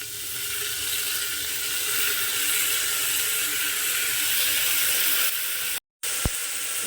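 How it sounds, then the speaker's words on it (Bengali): Onion and tomato hitting hot oil in a pan give a steady bright sizzle and hiss that holds the whole time, broken by a short cut of silence near the end, with no one talking. "আর তেল গরম হয়ে যাওয়ার পরে আমি এর মধ্যে দিয়ে দিচ্ছি পেঁয়াজ দিয়ে দিচ্ছি টমেটো"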